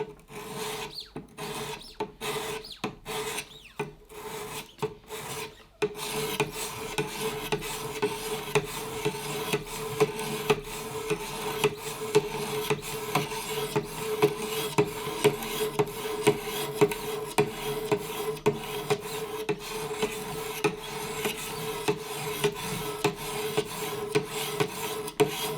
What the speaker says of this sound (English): carry on sharpening it now with that angle. So literally, I'm going to start off on 600 grit and work my way up.